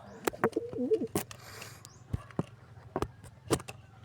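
A pigeon gives a few soft, low throaty coos near the start, close by, amid clicks, taps and handling noises from someone holding the bird.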